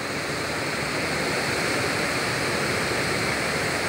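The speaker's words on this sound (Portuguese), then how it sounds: "essa linda cachoeira" Cachoeira da Prainha, a waterfall in Antônio Dias, Minas Gerais, pours with a loud, steady, broadband rush that stays constant from start to finish, with no voices.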